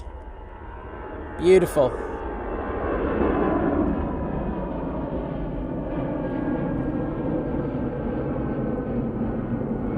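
An easyJet airliner takes off at Manchester Airport, its jet roar swelling from about two seconds into a broad, steady rumble, with a brief spoken exclamation near the start.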